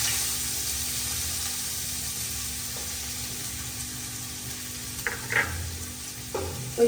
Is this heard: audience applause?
no